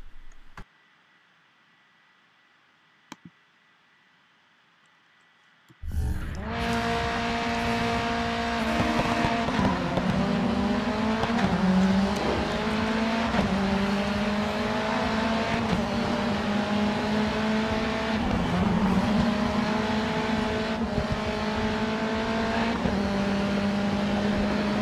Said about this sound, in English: Here's some touring car racing.